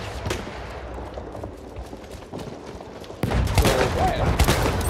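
Rapid gunfire bursts crackle through a Battlefield 1 multiplayer match, growing louder and denser partway through as the shooting gets closer, with some talking over it.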